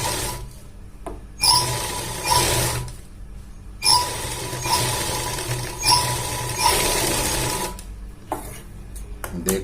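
A sewing machine stitching the back pocket of a pair of pants runs in several close, loud bursts of rapid whirring, separated by short quiet pauses.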